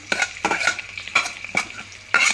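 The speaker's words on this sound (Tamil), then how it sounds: "கொஞ்சம் பரவாயில்ல சூடாயிடுச்சு அதாவது பொரிஞ்சிருச்சு கொஞ்சம் வெங்காயம் போட்டுக்கலாம்" Spices and onion fry in hot oil with a steady crackling sizzle, broken by several bursts of stirring or tossing in the pan, loud and close with no talking.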